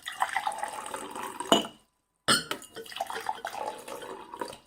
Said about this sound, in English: put some water in these 3 glasses, about the same amount in each one, not lots